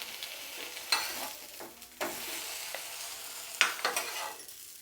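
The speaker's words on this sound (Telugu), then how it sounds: "ఇప్పుడు ఇది కొద్దిగా అలా ఫ్రై చేసేసి ఎత్తేద్దాం చాలు" Vegetables for a street-style veg sandwich filling fry in a pan: a soft, fairly quiet sizzle with intermittent scrapes and stirring strokes, heard alone.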